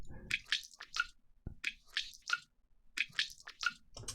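Rhythmic dripping water with a delay effect in a music production, evoking a hallway: sharp, squishy drops in a repeating pattern with echoing repeats and a low thump in between.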